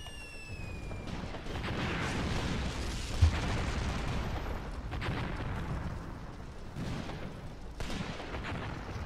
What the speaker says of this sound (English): Nasty outgoing fire. Listen to that.